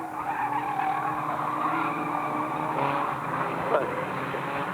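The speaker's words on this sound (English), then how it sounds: "We got a bit of a crash here" Race cars at an old-boys non-contact oval meeting skid and squeal with engines roaring in a continuous, moderately loud mix, a sharp impact-like burst near the end.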